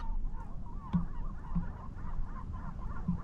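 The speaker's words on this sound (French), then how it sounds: "On entend les mouettes qui sont pas contentes." Gulls call repeatedly over a loud, steady rumble of wind or engine noise, their cries wavering and fairly distant, by the Étang de Bages lagoon near Gruissan.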